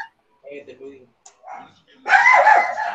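A small dog yips and barks in short bursts during an online class, several brief sharp calls scattered with pauses, then a louder stretch with voices mixed in, fairly close.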